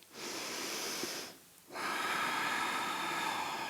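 Steady, airy breathing during a yoga stretch in a splits class, two long close breaths separated by a brief quiet pause, with no talking.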